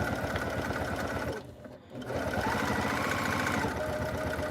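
A sewing machine stitches down a tote bag strap in a fast, steady rhythmic whir, pausing briefly before resuming at the same pace, with no talking.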